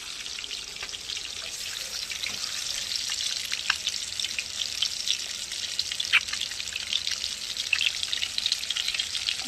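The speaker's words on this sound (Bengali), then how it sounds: "এবার তেলের মধ্যে কি সুন্দর দেখুন ভেজে নিচ্ছে" An egg frying in hot oil in a home kitchen crackles and sizzles steadily and close up, with frequent small pops spattering throughout and no speech.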